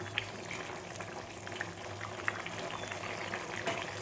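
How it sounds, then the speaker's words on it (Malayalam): Jackfruit seed curry simmering in a pot, steady low bubbling and gentle popping with occasional small plops, continuous and close, with no voices. "നമ്മുടെ കറി അങ്ങനെ തിളച്ച് വന്നിട്ടുണ്ട്"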